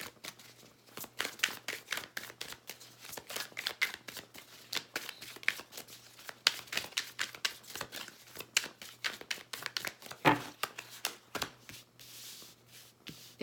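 Tarot cards being shuffled in a steady stream of quick, crisp riffling flutters, close and fairly quiet, continuing throughout with no talking.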